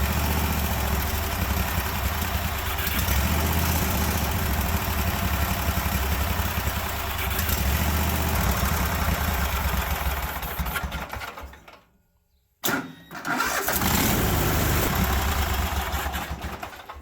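Cub Cadet 1050 hydro lawn tractor engine idling steadily and loudly up close, a dense buzzing drone that cuts out briefly near the end before running again.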